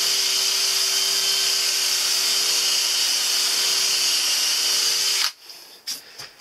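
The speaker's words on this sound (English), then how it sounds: "So my drill's going quite fast now." Power drill spinning fast while countersinking a pilot hole in camper van wall cladding, producing a loud, steady high-pitched whine that cuts off sharply, followed by a few short handling noises.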